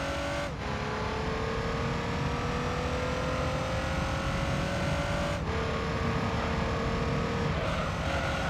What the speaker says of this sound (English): As soon as you hear the car slow down,